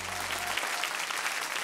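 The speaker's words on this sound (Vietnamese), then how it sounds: "Tôi không hiểu quý vị khán giả vừa rồi dành tràng vỗ tay là thế nào" Studio audience applause from a live Vietnamese TV dating show, a dense wash of clapping heard alone at steady level, with a low hum fading out early.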